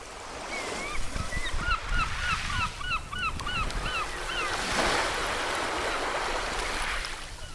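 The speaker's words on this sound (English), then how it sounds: "if you can hear by the seagulls in the sea that you can hear right now" Seaside scene with gulls calling in a rapid series of cries over steady surf, then a louder wash of waves swelling and fading, moderately distant and without talk.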